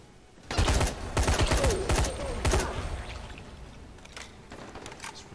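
Rapid bursts of automatic gunfire in the video game Dying Light, several loud close volleys packed together in the first half, then fading to quieter scattered shots.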